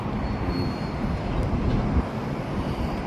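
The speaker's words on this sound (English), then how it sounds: "It's the train." A train passes near an overpass, a low, steady rolling rumble at moderate distance that stays even throughout, without talk.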